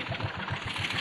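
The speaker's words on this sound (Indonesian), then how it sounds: "Mesinnya jebol guys, gara-gara ngebut." A klotok boat's small engine, blown out from racing, runs with a rough, pulsing chug in rapid regular beats, close and continuous.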